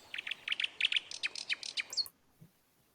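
A nightingale sings a quick run of bright, chirping notes for about two seconds, fairly faint and alone, then falls silent.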